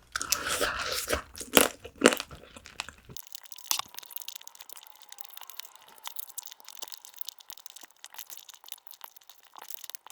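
Close, crisp crunching and biting on soy sauce marinated raw crab (ganjang gejang), loud irregular cracks at first, then softer continuous chewing and wet mastication sounds.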